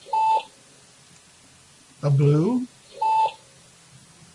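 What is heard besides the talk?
software meter alarm beeping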